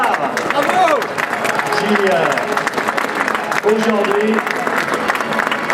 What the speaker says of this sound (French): Je vous demande d'applaudir cette nouvelle star